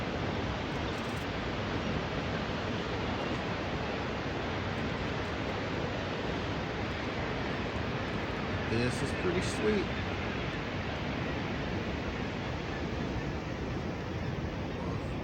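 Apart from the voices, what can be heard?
glacier meltwater flowing, Whittier, Alaska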